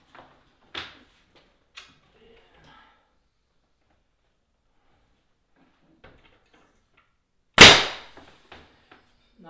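Nail gun fastening door trim, a single sharp loud pop standing out after scattered faint taps and handling clicks in a quiet room.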